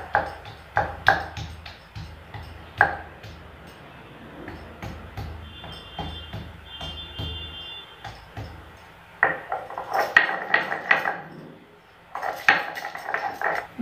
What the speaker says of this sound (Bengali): বন্ধুরা এখানে 15-16টার মতো রসুন নিয়েছি আর 4 টুকরো আদা নিয়েছি, এগুলো আমি একসঙ্গে বেটে নিচ্ছি।